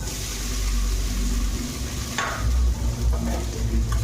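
Soaked flattened rice added to a hot pan with mustard seeds and curry leaves, a low sizzle with a sudden hiss and several stirring scrapes, close up with a deep background hum and no talking.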